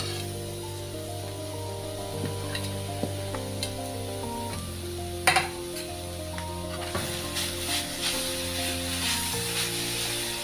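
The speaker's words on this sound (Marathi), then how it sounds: "बारीक किसलेले बीटरूट घालूया." Finely grated beetroot hisses and sizzles steadily in a hot pan, with occasional clinks and stirring scrapes rising over the constant frying noise.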